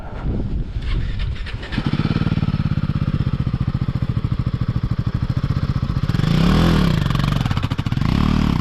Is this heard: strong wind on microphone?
no